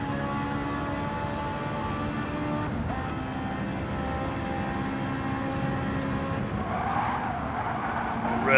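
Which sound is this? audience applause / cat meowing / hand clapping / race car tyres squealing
race car tyres squealing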